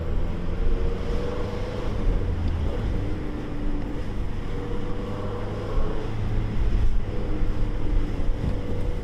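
A Mazdaspeed 3 fitted with a CPE catted downpipe and a Magnaflow catback exhaust drones steadily while city driving with the windows open, its low exhaust rumble blended with wind and road noise and swelling slightly now and then.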